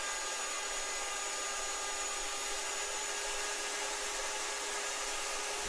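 A router cutter with a small spinning guide wheel trims the edge of a wooden board for a knickknack shelf, making a loud, steady, unbroken high whine throughout with no speech.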